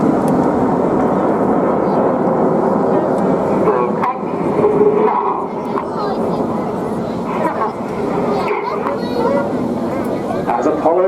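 A bright red aerobatic jet flies at the Torbay Airshow, a steady distant engine roar sustained throughout, heard under constant commentary and crowd noise.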